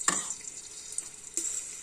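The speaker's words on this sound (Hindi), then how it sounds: "थोड़ा सा फ्राई करेंगे इसे।" Rice with garlic frying in a pan for egg fried rice, giving a quiet hissing sizzle broken by two brief scraping strokes of a large spoon, one at the start and one near the end.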